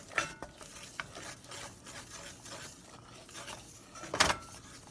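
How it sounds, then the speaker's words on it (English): A spoon stirs flour into a blonde roux in a pan: quiet, intermittent scraping strokes over a soft background, with a sharper scrape near the end. "Let's stir this flour in here. Make a little roux."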